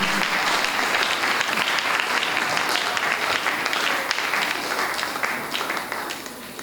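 Church congregation applauding loudly during a worship and thanksgiving service, a dense, sustained wash of many hands clapping throughout, easing off slightly toward the end.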